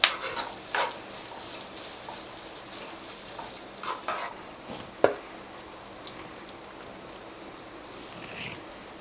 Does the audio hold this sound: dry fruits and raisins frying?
yes